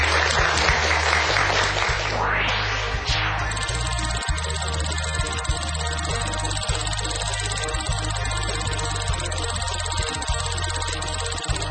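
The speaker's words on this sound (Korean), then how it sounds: "박수로 맞아주시죠." Studio audience applause greets a guest, a potato-research professor, on a Korean televised lecture program. A dense burst of clapping fills the opening seconds, then gives way to a steady sustained tone with muffled crowd noise beneath.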